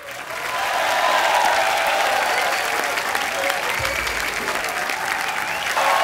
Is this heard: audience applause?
yes